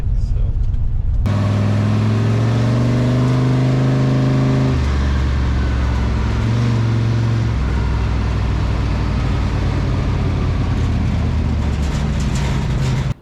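The tired engine of a 1965 GMC truck roars steadily and loudly at speed, its deep drone holding and then dropping in pitch in a couple of steps as it revs and eases off.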